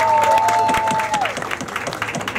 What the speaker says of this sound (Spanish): Un aplauso para estos dos caballeros. Fuerte el aplauso.